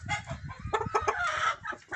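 Small Ameraucana hens of the American blue-egg-laying breed clucking in a backyard flock, a steady run of close, overlapping clucks and calls with no talk.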